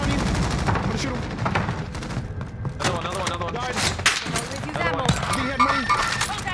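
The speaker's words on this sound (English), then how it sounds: "I'm gonna shoot him" Rapid gunfire in a Warzone-style Plunder tournament match, bursts of shots and thuds layered over near constant excited talking from players.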